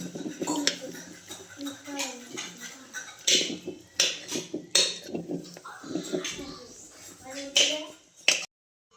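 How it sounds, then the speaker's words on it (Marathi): Cooked pumpkin is mashed in a metal pan with a utensil, giving irregular close clanks, taps and squelches mixed with intermittent talking. "भोपळा चांगला बारीक करून घेतलाय"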